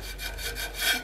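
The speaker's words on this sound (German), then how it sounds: "Durch die Löcher einfach nur ein wenig von Hand schleifen" Sandpaper is rubbed by hand through the holes of a hollow turned wooden tea light holder, making a close, steady rhythmic scratching with no voices.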